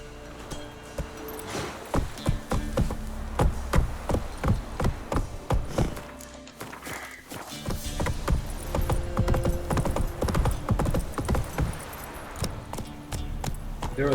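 Clip-clop hoofbeats of a horse galloping in The Witcher 3 video game, a steady rhythmic thudding that runs through the whole stretch, close and fairly loud, with a brief pause in the middle and faint game sounds and voices mixed in.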